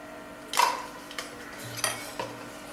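Ground pepper and cumin powder being mixed in a bowl while making egg fried rice, heard as a few light metallic clinks and scrapes of a utensil against the bowl, fairly close and spaced apart, with no talking.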